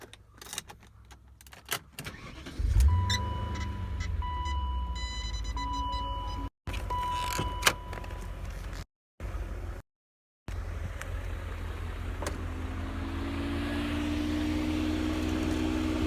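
Keys rattle, then an already warm BMW M5 engine cranks and catches, settling into a steady, smooth idle that continues close by without talking.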